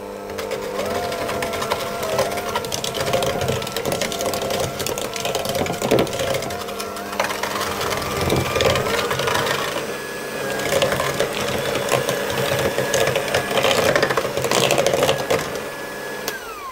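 A stand mixer or electric whisk mixing egg yolks and vanilla extract for mince pie filling, a continuous close motor whine with a rhythmic mechanical rattle and slight shifts in pitch throughout.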